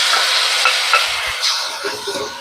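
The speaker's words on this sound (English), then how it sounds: "And then I'm going to be throwing in my beef that has been marinating." Marinated beef for seven flavor beef frying in a hot pan, a loud, dense sizzle with light stirring clicks and scrapes throughout, close up and with no voices.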